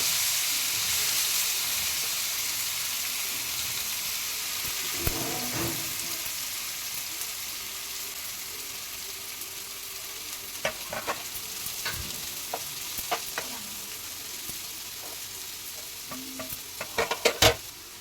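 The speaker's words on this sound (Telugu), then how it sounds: "అదే నూనెలో పచ్చిమిరపకాయలు ఉల్లిపాయలు వేసుకుని వేసుకోవాలి" Green chillies and onions fry in oil left over from cooking eggs for an egg and prawn curry. A steady hissing sizzle runs throughout, with occasional clattering stirs that become more frequent near the end.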